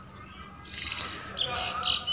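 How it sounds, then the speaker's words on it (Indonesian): Brown jongkangan bird calling, a series of short high chirps and thin whistled notes repeating over about two seconds against steady background noise. "cara membedakan burung jongkangan coklat jantan dan betina"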